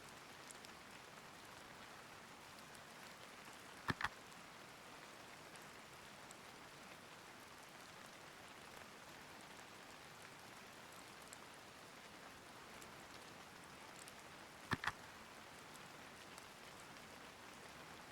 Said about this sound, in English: I'm also enjoying listening to the rain